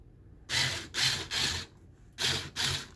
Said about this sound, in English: So you're gonna do the two center screws.